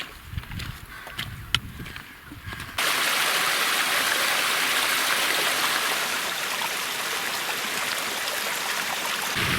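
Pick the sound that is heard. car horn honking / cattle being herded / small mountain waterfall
small mountain waterfall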